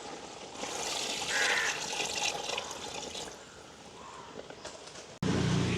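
Water pours steadily into a cooking pot of quail meat for village-style biryani, a close, continuous splashing flow that softens midway and ends with a sharp clunk.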